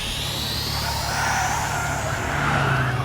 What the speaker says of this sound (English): Is that a turbocharger? Those things are brand new!